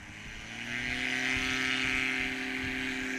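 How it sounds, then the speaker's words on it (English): A STOL airplane taxies up to the line at Ontario Municipal Airport during Oregon Trail STOL competition practice, its propeller engine giving a steady close droning hum that swells slightly and holds throughout. "Taxiing up to the line there, getting ready to go in that Model 4."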